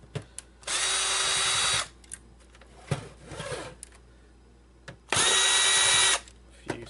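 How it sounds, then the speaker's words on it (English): A powered screwdriver backs screws out of a PS3 Super Slim console, with two bursts of whirring about a second long, separated by a pause filled with small clicks and handling of the casing. "you remove this screw here"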